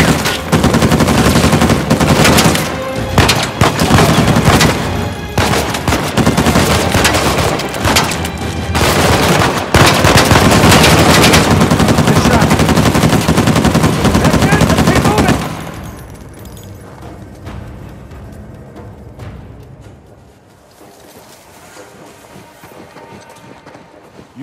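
Turret machine gun fire in Uncharted 4 comes as loud, dense, sustained bursts of rapid shots and impacts for about fifteen seconds, then drops to quieter scattered gunfire and ambient game noise.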